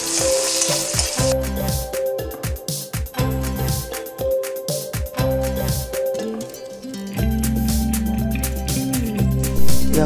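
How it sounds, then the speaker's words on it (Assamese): Chopped onions sizzle and crackle in hot oil with bay leaves in a kadai, loud and close, with dense popping bursts that continue throughout and no talking. "এনেকৈ পিঁয়াজখিনি অলপ সময় ভাজি ল'ব।"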